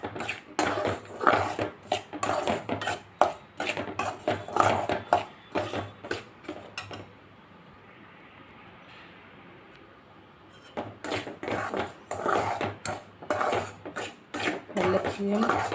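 Powdered jaggery being stirred with lentil and green gram powder in a pan gives repeated close metallic scraping and clinking strokes, pausing for a few quiet seconds midway before resuming.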